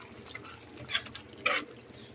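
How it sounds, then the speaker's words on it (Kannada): Paste of green chilies, mint and coriander tipped into a cooking pan, giving two soft, wet splats about half a second apart over a faint, quiet background. "ಹಸಿಮೆಣಸಿನ್ಕಾಯಿ, ಪುದೀನ, ಕೊತ್ತಂಬರಿ ಅನ್ನು ಪೇಸ್ಟ್ ಮಾಡಿ ಹಾಕ್ತಾಯಿದ್ದೀನಿ"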